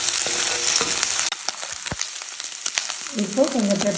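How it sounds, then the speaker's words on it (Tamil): Egg mixture with pepper sizzling and frying in a pan, a steady hiss with scraping stir strokes and a brief sharp clatter, ending in a louder burst of sizzle. "அதை அப்படியே இது கூட மிக்ஸ் பண்ணி வதக்கணும்"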